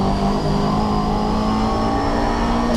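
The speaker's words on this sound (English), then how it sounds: "that V8 Ferrari sounds absolutely fantastic" A V8 Ferrari race car engine screams at high revs, a loud, steady howl that rises slightly as the car blasts past, with no voices.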